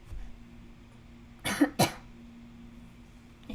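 Two sharp coughs come close together in a quiet room, with faint background hum before and after.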